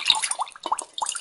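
Water poured through a funnel into a bottle holding baking soda, giving quick splashing gurgles and drips in short bursts, close and clear.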